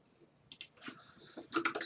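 Typing a trading card search on a computer keyboard, a quick flurry of close, crisp key clicks in two short bursts with a brief pause between, fairly quiet, no talk.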